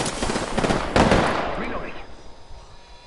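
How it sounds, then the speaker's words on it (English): Devotion light machine gun tap-fired in Apex Legends, a dense burst of sharp gunfire in the first second and a half that trails off into quieter game noise, with a voice talking over it. "I'm fucking tap firing a fucking devotion right now, dude."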